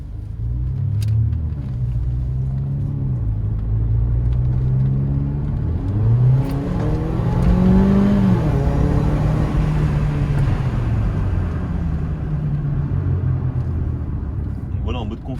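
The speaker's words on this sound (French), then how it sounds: "Donc on va commencer en mode confort. Vous allez entendre au niveau du bruit comment ça se passe." Mercedes GLA 45 AMG engine while driving in comfort mode, a steady low rumble with gentle rising and falling revs through gear changes, muted and continuous under road noise.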